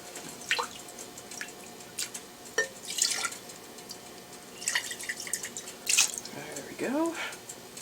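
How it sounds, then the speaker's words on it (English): Rinsing cooking ingredients under tap water to wash out the last of the stock, with splashing and dripping bursts of water heard close up alongside a voice speaking. "I'm going to rinse these because I want every ounce of stock."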